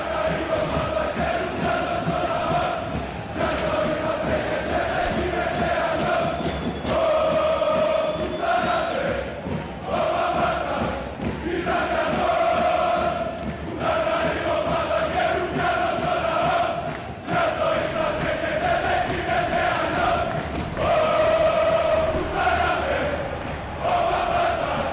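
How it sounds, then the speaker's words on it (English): A large crowd cheers and chants after a goal in a video game, in rising and falling waves, loud and continuous, with repeated surges of shouting throughout. "you can hear the cheering from the BBPN supporters on that one"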